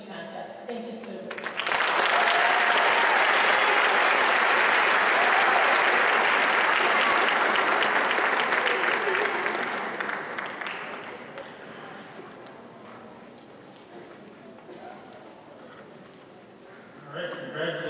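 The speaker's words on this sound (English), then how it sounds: "Let's give them another round of applause for all the great things they've done." Audience applause for speech contest winners at the 35th annual Dr. Martin Luther King Jr. birthday celebration in Milwaukee, a loud burst of many clapping hands that starts abruptly, holds for about ten seconds, then gradually thins and fades.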